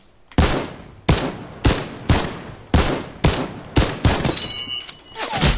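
Rifle fire from a Fortnite match: about eight sharp, loud shots at a steady rhythm of roughly one every 0.7 seconds, each with a short echoing tail, the last few closer together.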